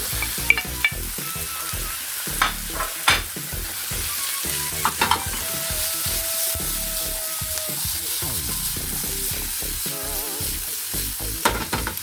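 Patola and scrambled egg with tomato and onion being stirred in a sizzling pan, with repeated scraping spatula strokes over a steady frying hiss, close and moderately loud, no talk.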